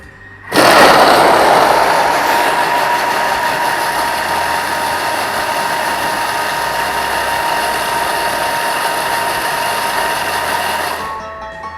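A Thermomix runs at speed 6 for about ten seconds, mixing pineapple tart ingredients under its lid. Its motor gives a loud, steady whirring hum that starts abruptly, holds evenly close by, then cuts off.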